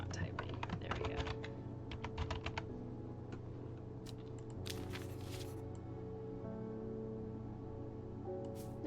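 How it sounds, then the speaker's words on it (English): Computer keyboard typing during a Strange Horticulture game stream: a quick burst of rapid key clicks at the start, then scattered isolated taps over a steady low background hum. "Why is it not typing?"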